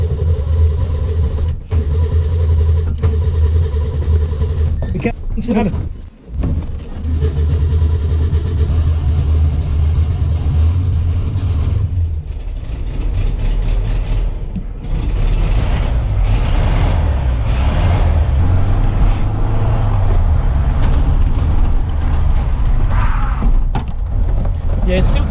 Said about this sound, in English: Let's take it for a spin and see if these brakes work.